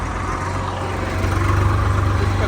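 A steady low diesel drone comes from a tractor running on a Ghaggar river flood embankment, continuous and fairly close, swelling slightly louder halfway through, with no voices.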